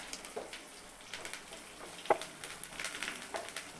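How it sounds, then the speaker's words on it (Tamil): Mustard seeds, chilli flakes and curry leaves hit hot oil for katrikai poriyal, making a soft sizzle punctuated by scattered small pops and crackles, with one sharper snap partway through. "இப்போ கடுகு, சில்லி ஃப்ளக்ஸ், கருவேப்பிலை நான் சேர்த்துட்டேன்."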